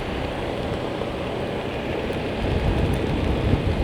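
Heavy rain pours down on a flooded Los Angeles street, a dense steady hiss of drops that swells louder in the last seconds, with no voices.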